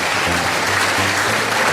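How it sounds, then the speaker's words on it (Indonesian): Parents at a school ceremony inaugurating a building and sending students off to internships give a steady round of applause, dense and even across the whole stretch with no speech. "Tepuk tangan dulu orang tua."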